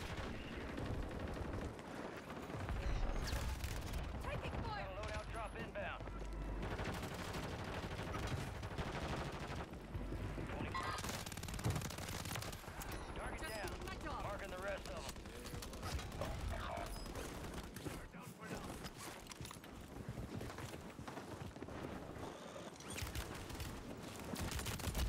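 Warzone 3 match audio packed with rapid automatic gunfire, mechanical weapon clatter and explosive bursts, continuous and loud for the whole stretch.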